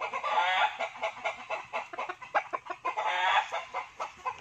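Gamefowl sweater roosters at a breeding farm clucking and calling in a dense, continuous chorus of overlapping cackles and squawks, fairly close and steady throughout with no talking.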